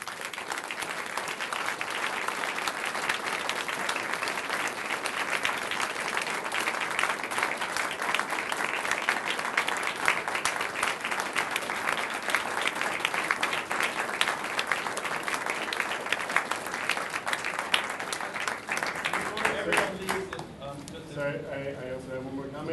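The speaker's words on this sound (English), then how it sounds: "And I think we owe them a very large round of applause." A salon-series audience gives performers long, sustained applause, a dense steady clatter of many hands continuing for around twenty seconds before tapering off, with some voices and room sound near the end.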